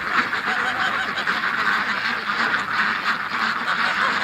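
A flock of ducks quacks steadily near trees, a dense continuous chatter of many birds at moderate distance with no clear gaps.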